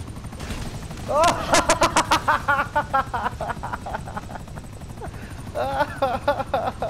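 A helicopter flies in the video game Grand Theft Auto V, its rapid rotor chop pulsing loudly among bursts of gunfire, with voice-like sounds mixed in.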